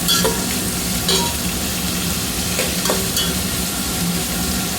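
Spices for tempering, for poha, crackle and sizzle loudly in hot oil, a close, continuous hiss broken by a few sharper pops, with no voices.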